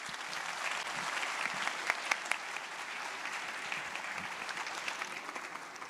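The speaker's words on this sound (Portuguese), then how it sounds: "Queria pedir uma salva de palmas para todos" An audience at a drone employment workshop gives sustained, dense applause that holds steady for several seconds, with a few sharper individual claps standing out.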